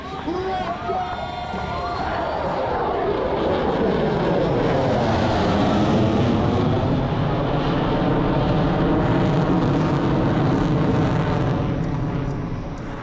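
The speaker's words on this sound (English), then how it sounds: "I present to you the most feared aircraft in the world today, your United States Air Force's F-22 Raptor!" A US Air Force F-22 Raptor jet at an air show makes a loud, sweeping roar that swells over a few seconds and holds steady, with crowd noise underneath.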